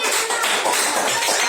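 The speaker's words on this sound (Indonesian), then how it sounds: "Tepuk tangan dulu dong." A class of students applauding in a classroom, a dense, continuous patter of many hands clapping at once, loud and close, with no talking.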